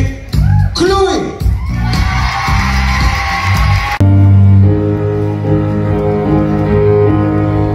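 A talent show audience cheering and whooping loudly for a singer, shouts and applause rising together before a pop backing track cuts in at full volume.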